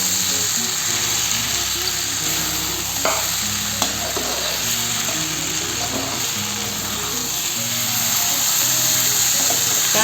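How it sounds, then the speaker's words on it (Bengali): Jackfruit and fried potatoes sizzle and fry in oil in a pan as they are stirred together for a curry, a steady loud crackling hiss with scraping of the spoon throughout, no talk. "কাঁঠালের মধ্যে দিয়ে দিচ্ছি ভাজা করা আলুগুলোকে একসাথে মিশিয়ে নেব। কাঁঠালের গা থেকে ধীরে ধীরে তেল সব ছুটে আসছে।"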